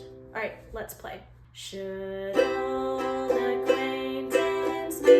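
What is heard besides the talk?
No distinct noise like a dog, phone or traffic.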